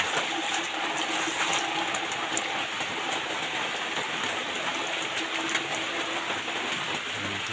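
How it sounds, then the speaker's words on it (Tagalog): Typhoon rain falls steadily in Subic, a continuous close hiss of water pouring onto surfaces that stays even and unbroken from start to finish. "Ayan, tubig na ulan."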